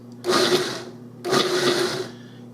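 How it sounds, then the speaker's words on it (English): A food processor with a metal chopping blade pulses orange, cranberry and apple in two loud whirring bursts, each about three-quarters of a second long, separated by a short pause. "You've got the metal blade in there, the chopping blade, and we're just going to pulse this."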